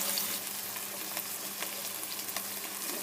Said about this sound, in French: Dans une autre poêle, où nous avons mis de l'huile d'olive, nous allons mettre la moitié de la quantité d'anchois à cuire.